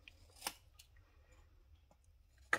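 Scissors cut paper for a reinforced card box, a few faint, sharp snips spaced apart in a quiet room.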